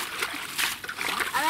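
Water splashes and sloshes steadily as it pours onto a field being irrigated, a close, continuous rushing wash with small bursts.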